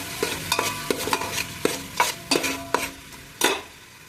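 Onions fry in oil while a spoon stirs them, giving a sizzling hiss under a quick, irregular series of scraping clacks against the pan, close and fairly loud.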